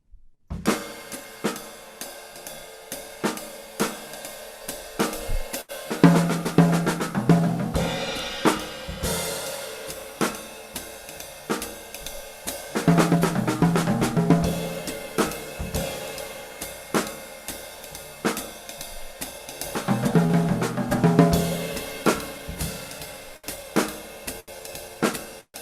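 A drum kit keeps time with cymbal strikes and snare accents in a jazz style, breaking into rolling eighth-note triplet fills at regular intervals; no one speaks.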